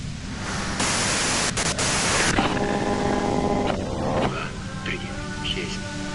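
Loud, hissing radio static in Disco Elysium fills the whole stretch, with a distorted voice and faint tones mixed through the noise.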